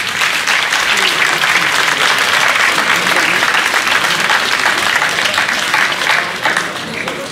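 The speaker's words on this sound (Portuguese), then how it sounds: "peço o vosso aplauso para José Fernandes." An audience at the Festas da Praia 2023 cantoria folk singing festival applauds a singer, dense steady clapping and crowd noise lasting several seconds before easing slightly at the end.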